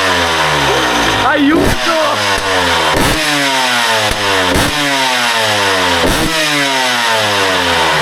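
Motorcycle with an aftermarket exhaust revving hard: a loud, close engine note climbing repeatedly in pitch through several blips, with a brief shouted voice partway through.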